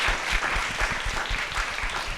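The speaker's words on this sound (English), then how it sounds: "Please give a big round of applause to Glenda, Mabel, Rachel, Lucinda, and Clifford." A seminar audience applauds a discussion panel with steady, close clapping that fills the short moment evenly and does not fade.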